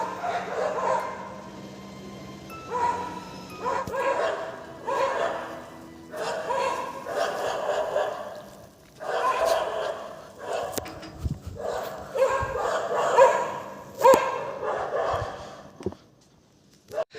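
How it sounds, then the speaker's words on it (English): Several dogs bark at night in repeated bursts, some near and some farther off, with yips and short pauses over a low steady background hum, heard from a rooftop. "Dogs are barking non-stop."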